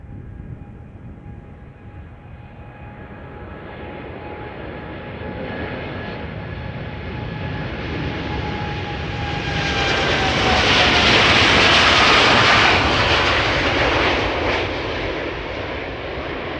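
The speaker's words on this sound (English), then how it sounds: "TUI flight 367 to Willemstad Curaçao is pulling up, coming this way" TUI passenger jet, an 11-year-old aircraft, taxiing at Amsterdam Schiphol Airport, its engine roar swelling as it draws near and peaks with a loud broadband rush, then easing slightly as it passes.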